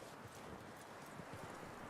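Horse hooves clip-clop steadily at a walking pace in the open world of Red Dead Redemption 2, a soft, even rhythm of hoof falls over a low ambient background.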